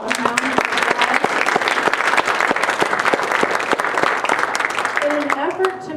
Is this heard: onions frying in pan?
no